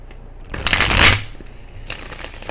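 Tarot cards riffle and shuffle in a quick burst lasting about half a second, close and crisp, followed by a softer second shuffle.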